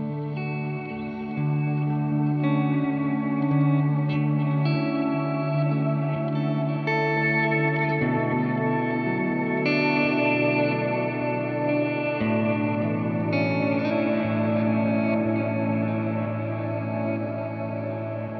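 Sustained guitar tone through a Condor pedal with mids cranked high, its frequency knob slowly ramping so the midrange sweeps up and down over a long, washy reverberant drone.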